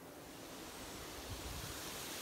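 Steady broadband rush of a waterfall in South Wales, continuous and fairly soft with no pauses, sounding like water pouring down at a moderate distance with no voices over it.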